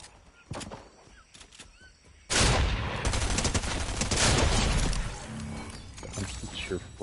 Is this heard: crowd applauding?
no